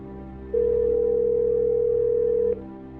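A phone call connecting after the call button is pressed, heard as a steady electronic tone that holds for about two seconds and then cuts off, over a low background hum.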